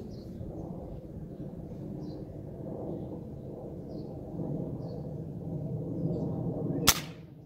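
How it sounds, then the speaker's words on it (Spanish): A single sharp crack from a Quetzalcoatl air rifle sounds near the end, loud and abrupt against a quiet outdoor background hum. "Vamos a ponernos en posición y a efectuar nuestro disparo."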